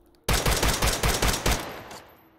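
M4 rifle with a 14.5-inch barrel in a video game, firing a fast burst of about eight sharp, loud shots in even rhythm, each with a short ringing tail that fades after the last round.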